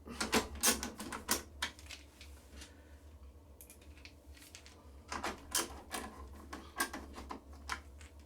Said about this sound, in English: So I'll put these 3 screws back in.